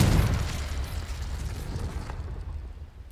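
Confringo fiery blast spell exploding in Hogwarts Legacy: a loud, deep rumbling burst at the start that rolls off into a long, fading roar over about three seconds.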